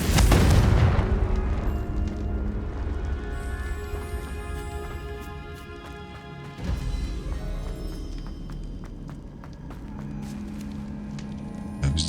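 Confringo blast spell explosions in Hogwarts Legacy, a loud booming burst at the start that decays into a rumbling tail, followed later by another softer blast and crackling bursts.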